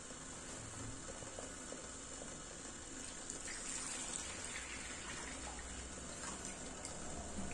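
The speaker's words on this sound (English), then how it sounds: "Some water." A small pump running at minimum pushes water through a homemade Christmas village water feature, making a steady, faint rushing trickle that continues evenly with no voices.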